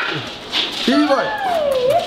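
A dog in a house gives a rising, wavering whimper that slides up and then falls, close and fairly loud, over a background of indoor noise and voices.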